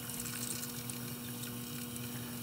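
Water running into a home dishwasher, a steady low hum of fill pump and flowing water with a constant tone, continuous and fairly quiet throughout, with no talking.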